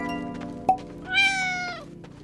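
Cat meow sound effect played on a live stream: a brief tap, then one clear drawn-out meow, close and isolated, with no talk over it.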